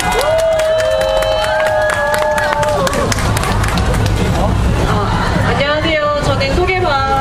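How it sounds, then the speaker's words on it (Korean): A loud crowd at an outdoor candlelight rally for women's health rights claps and cheers close by, with dense applause, shouting and babbling voices throughout, and a rising cheer near the end. "옆에 꿀리지 않게 큰 박수로 네,"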